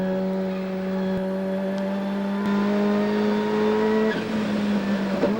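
Race car engine at full race speed during the 1991 Bathurst 1000, a loud, steady, sustained drone that holds its pitch with a slight shift late on and no talk over it.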